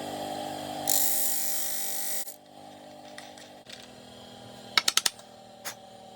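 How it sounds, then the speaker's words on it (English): A hard purpleheart wood pen blank sanded on a lathe makes a loud rasping burst over a steady motor hum, then quieter hum with several sharp taps and clicks. "This is purple heart. It's quite a hard wood, so it's going to take a bit to sand it off."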